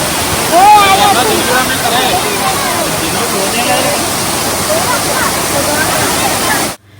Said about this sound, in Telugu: చూసారు కదా వాటర్ ఫాల్స్ ఎంత బాగుందో